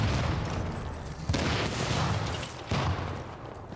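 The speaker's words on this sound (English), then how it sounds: "once kind of explosions start happening, it weakens enemies inside." Explosions go off in a video game: two heavy, booming blasts land about a second and a half apart over a dense rumble of continuous gunfire, loud and close, with no speech.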